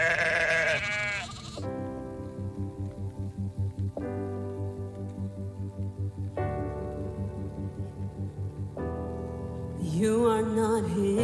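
Sheep bleat in a series of long, wavering calls, one after another with short gaps, fairly close and clear, alone with no talk.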